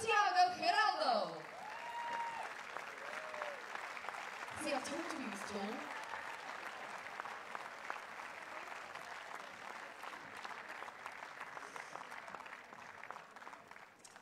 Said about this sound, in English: give a huge round of applause and welcome John Isner and Santiago Giraldo